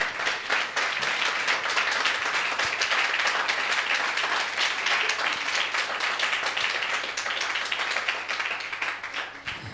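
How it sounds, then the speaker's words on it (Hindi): A church congregation claps loudly for the Lord, a dense, even burst of applause from many hands that carries on steadily for nearly ten seconds before tapering at the end. "आइए जोरदार प्रभु के लिए ताली बजाएं।"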